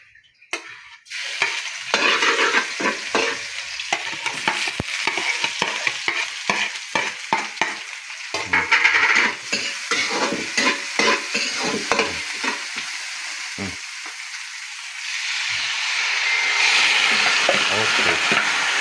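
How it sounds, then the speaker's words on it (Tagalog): Marinated tuna skin adobo fries in a pan with steady loud sizzling, broken by repeated scraping and clattering strokes of stirring, the hiss swelling toward the end. "Lulutuin natin ngayon ang balat ng tuna."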